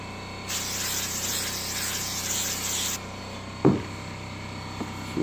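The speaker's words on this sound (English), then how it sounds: "Spray a little goof off." Goof Off solvent sprayed from an aerosol can onto old leather saddle bags of a Harley-Davidson Road King Classic: one steady hiss lasting a few seconds, close and fairly loud, followed by a couple of brief handling knocks.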